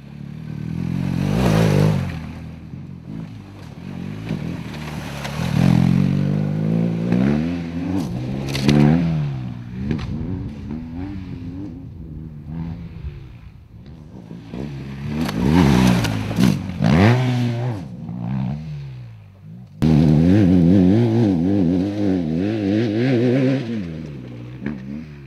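A BMW R 1250 GS adventure motorcycle engine revs loudly and close by in rising and falling surges, with a brief drop near the middle before the roar returns at full strength.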